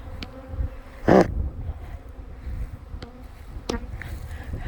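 A honey bee swarm gathered along the edge of farm equipment gives off a low, steady buzz, with a few louder insect passes close by.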